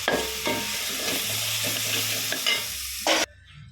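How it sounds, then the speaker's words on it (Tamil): Ginger garlic paste sautéing in a pan for cauliflower potato kurma, a steady close sizzle with a few stirring scrapes, ending abruptly into near silence. "இஞ்சி பூண்டு பேஸ்ட் ஆட் பண்ணிட்டு நல்லா வதக்கணும்."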